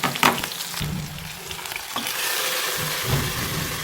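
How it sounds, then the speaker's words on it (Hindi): A tadka of hot oil with crushed red chillies sizzles and crackles as it is poured into a pot of mash dal, a close, steady frying hiss with no voices. "तो देखें, हमारा जो है तड़का वो रेडी हो चुका है। बस अब हम इसको डाल देंगे दाल में।"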